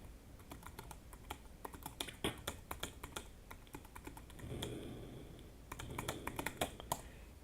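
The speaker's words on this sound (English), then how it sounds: "So I typed in a few commands and they're sitting there in a buffer and nothing is occurring." Commands are typed on a computer keyboard for a retro dungeon game port, a run of crisp, close key clicks in uneven bursts with brief pauses and a heavier thump or two.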